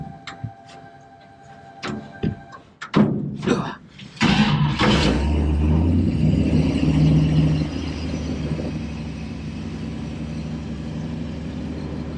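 A 1954 Chevrolet Delray with FiTech fuel injection starts with a few clicks and knocks, then settles into a steady, loud engine rumble close by as it pulls away.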